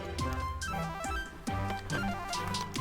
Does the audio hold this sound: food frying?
no